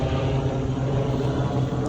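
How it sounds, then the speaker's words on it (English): Continuous low rumbling drone of a helicopter flying overhead outdoors, steady and moderately loud with a throbbing low-end hum and no talking. "Here comes the helicopter again"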